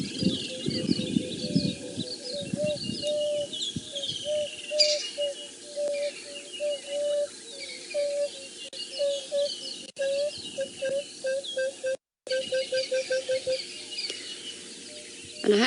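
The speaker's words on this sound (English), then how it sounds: "Let me play you the emerald-spotted wood dove" A soft, low emerald-spotted wood dove call repeats in a descending series of hollow coos over a background of assorted birdsong and chirps on safari.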